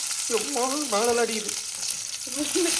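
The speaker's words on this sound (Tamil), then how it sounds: "இப்போ எண்ணெய் சூடாயிருச்சு இதில் வந்துட்டு இந்த கத்திரிக்காவை போட்டுப்போம்" Eggplants hiss in hot oil in a pan, giving a steady bright sizzle beneath a voice talking.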